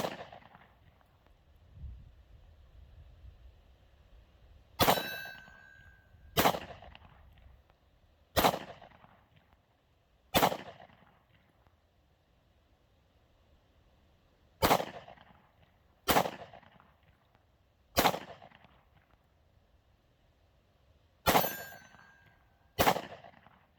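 Ten sharp gunshots from a SCCY CPX1 pistol ring out at a shooting range, fired singly with uneven pauses of one to two seconds, each a loud crack with a short decaying echo over a faint background hum.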